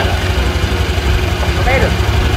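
A motorcycle engine idles steadily after being started, a loud, close, continuous low rumble with a faint voice briefly audible over it.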